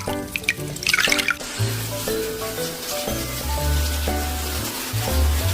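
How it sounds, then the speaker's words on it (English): A parrot showers under running tap water, the steady close splash and dripping continuing throughout, with a brief brighter spray burst near the start and no talk. "Ever seen a parrot take a shower?"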